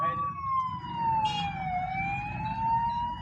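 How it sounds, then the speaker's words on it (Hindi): An ambulance on a road sounds its siren, a loud wailing tone that slowly falls and rises over the low rumble of passing traffic. "इस साइड आने का एम्बुलेंस है, अपने सायरन में आ रही है"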